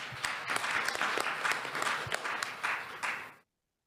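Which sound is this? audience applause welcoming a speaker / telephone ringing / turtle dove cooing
audience applause welcoming a speaker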